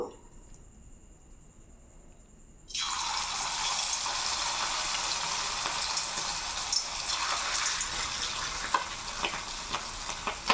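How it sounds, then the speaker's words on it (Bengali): Marinated boneless chicken pieces hit hot oil in a wok and set off a loud, steady sizzle that holds at full strength after a brief quiet start. "তো আমি এবার একটা একটা করে ভেজে নেব।"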